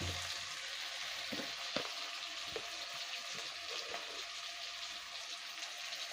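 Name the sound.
tomato frying in a pan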